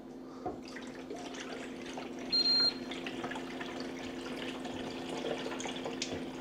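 Clean water pours into the top of a Ninja Professional SLUSHi slushie machine, a steady moderate trickle and splash over a constant motor hum, with a brief high electronic beep partway through.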